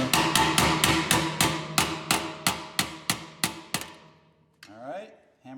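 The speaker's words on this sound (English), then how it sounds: "All right, hammer those down tight." A hammer strikes in a workshop about a dozen times in an even rhythm, each blow sharp and close, with the strikes fading before a brief voice-like murmur.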